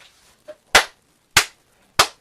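Three sharp, loud hand claps land at even intervals, close and isolated against near silence, after a fainter tap.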